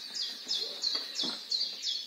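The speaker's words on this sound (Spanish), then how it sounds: "Los pajaritos nos dan su sonido, su canto. Ellos cantan." Small birds chirp in quick, high, repeated bursts, about six short tweets in a steady rhythm, clear and fairly close.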